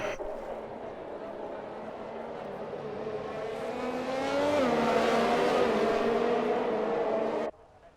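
Racing car engines whine and rise in pitch as they accelerate, a continuous revving drone that swells louder midway, then cuts off abruptly.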